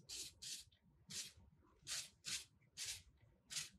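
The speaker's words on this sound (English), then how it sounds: "just spray over the top of the leaf here." Spray lacquer or half-strength glaze misted over a sugar leaf in short hissing bursts, about seven quick sprays in an uneven rhythm, close and fairly quiet, with no talking.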